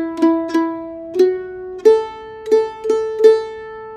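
Mandolin picking a simple song melody from a one-beat pickup, seven clear plucked notes and double stops ringing out alone at a steady, unhurried pace.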